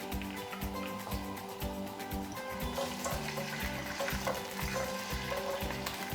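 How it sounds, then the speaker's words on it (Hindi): Mushrooms frying in oil in a pan for restaurant-style mushroom fried rice, a steady close sizzle running throughout with faint stirring, over quiet background music and no talk. "सबसे पहले ऑयल डालते हैं, हल्का सा इसको फ्राई कर लेते हैं मशरूम को"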